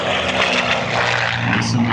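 Propeller aircraft engine roaring steadily at an airshow during an aerobatic hesitation roll, loud and continuous throughout, with a strong low drone and broad high-pitched whine.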